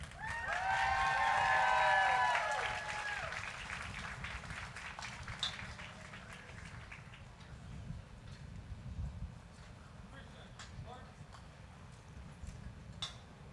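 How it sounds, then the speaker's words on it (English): Stadium crowd applauding the national anthem singer at a World Cup host city event: a loud burst of clapping and cheering that fades into scattered claps and murmuring. "A nice round of applause for Carolina Real of Ridgefield, New Jersey"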